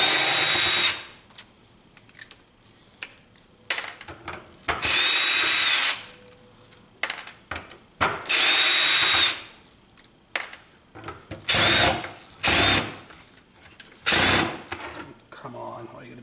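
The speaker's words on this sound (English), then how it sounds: "so let's finish taking off all these screws" A power drill backs screws out of a scrapped car computer in repeated short, loud whirring bursts of a second or so, separated by pauses with handling clicks and faint muttered talk.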